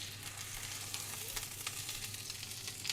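Scrambled tofu fries in a pan with a steady crackling sizzle, close and moderately loud, with small spatters and a few stirring scrapes throughout and no speech.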